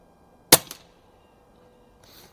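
An Umarex Notos air rifle firing a pellet gives one sharp, loud crack followed by a brief smack, then near silence and a faint rustle.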